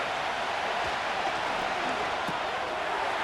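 Steady crowd roar fills a New Orleans Saints regular-season NFL football stadium as the home crowd gets into it before a third-down play, a dense continuous wash of cheering noise with no pauses.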